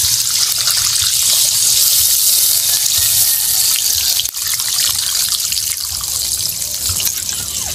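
Water gushes loudly and steadily into a cooking pot holding a pork hock with bay leaf and star anise, added to soften the meat. A brief knock interrupts the stream partway through.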